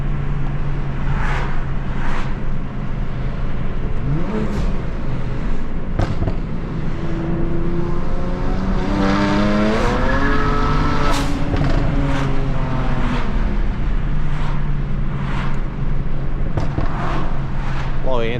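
A 400hp manual BMW 335is with stock turbos and anti-lag accelerating, its engine roaring continuously with rising and falling pitch through the gears, sharp pops and crackles scattered throughout, heard from inside the car.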